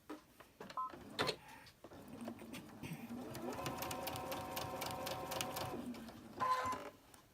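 A sewing machine stitches cotton fabric in a steady, close run of about three seconds, preceded by short bursts and handling clicks and ending with a brief final burst.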